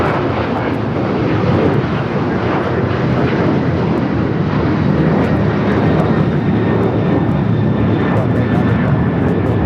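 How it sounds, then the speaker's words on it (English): Alaska Airlines Boeing 737-900ER taking off at LAX, its engines giving a loud, continuous roar that holds steady throughout. "Next takeoff is flight heading to Cabo, 737-900ER, Alaska Airlines Flight 1360."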